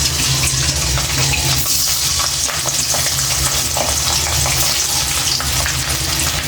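Pieces of katla fish rubbed with salt and turmeric hit hot oil in a wok, raising a loud, dense, continuous sizzle and crackle close by, with no talking.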